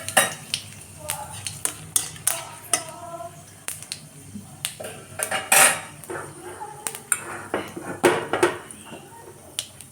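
Panch phoron and a dried chili frying in hot oil, scattered crackling pops mixed with sharp clinks of a utensil against the pan, fairly close and moderately quiet.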